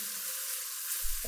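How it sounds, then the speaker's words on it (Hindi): Garlic and coriander paste fries in a hot pan, giving a brief, steady sizzling hiss close to the listener, with a soft clink near the end. "चंद सेकंड के लिए इसको फ्राई कर लिया"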